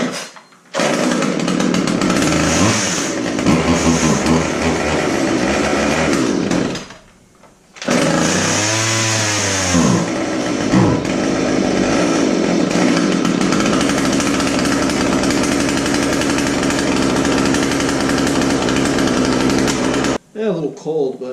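A cold chainsaw, a Stihl 450 among those being cleaned, is drop-started and then runs with a loud close two-stroke engine roar. It cuts out briefly, rises again with revving and settles into a steady idle-to-high buzz before stopping.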